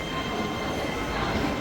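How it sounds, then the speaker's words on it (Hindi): A Chongqing metro train runs through a building, a steady close rumble of wheels on rail with a faint squeal, continuous and fairly quiet, no talking. "जहाँ पे जो मेट्रो है वो बिल्डिंग के अंदर से गुजरती है"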